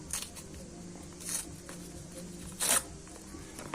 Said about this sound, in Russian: Открываем вот такой вот пакетик с бипом.